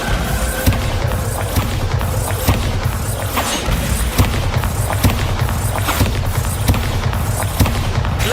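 Repeated Bombarda spell blasts in Hogwarts Legacy, a steady run of loud, close booming explosions and crashes roughly every half second over a dense rumbling game backdrop, with no talking.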